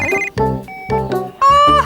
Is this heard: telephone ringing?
yes